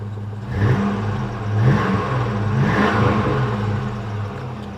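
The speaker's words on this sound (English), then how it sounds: "I'm going to see if I can't give you a rev" A 2001 Chevy Silverado 1500 pickup with budget Thrush mufflers, its engine revving from idle in a couple of throaty swells and dropping back, close to the exhaust and loud, with no talking.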